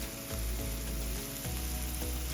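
Garlic, onion, cherry tomatoes and ground cumin sizzle in hot olive oil, a loud, close, continuous crackling fry with a few soft low bumps from ingredients dropping into the pan.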